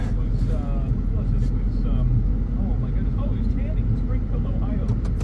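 A 2004 Ford Excursion SUV engine rumbles steadily at low speed while parallel parking, a continuous close drone with a voice talking over it.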